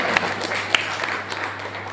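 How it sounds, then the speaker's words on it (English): Scattered applause from a summer youth camp audience, a thin patter of clapping with a few sharper individual claps over a low hum. "Let's give him a round of applause"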